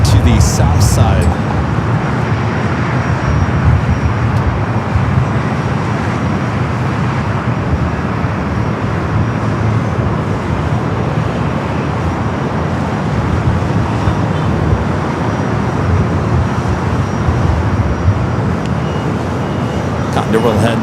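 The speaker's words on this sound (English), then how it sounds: "British Airways, the second flight of the day, coming up from London Heathrow, flight 281, heading to the south side" British Airways flight 281, an airliner arriving from London Heathrow, gives off a broad, steady jet roar that holds loud throughout alongside airport background noise, and faint talk may sit beneath it.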